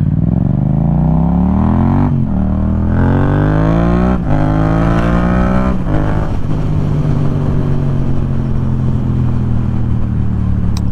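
A small twin-engine motorcycle accelerates hard on a closed road, its loud engine note climbing through several gear changes with brief dips between them, close and continuous with no talking.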